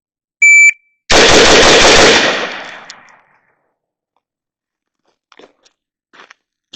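A Bushmaster rifle fires six quick rounds in a bill drill with the safety worked, on an outdoor range: a loud, dense burst of closely spaced shots lasting about two seconds, followed by quiet with a few faint clicks.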